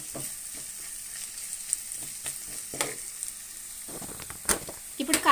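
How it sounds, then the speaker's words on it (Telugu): Ginger garlic paste fries in a pan for a pesarattu masala curry, a soft steady sizzle running throughout with scattered stirring scrapes and clicks that grow busier toward the end. "అల్లం వెల్లుల్లి పేస్టు పచ్చివాసన పోయేంత వరకు వేయించుకోవాలండి"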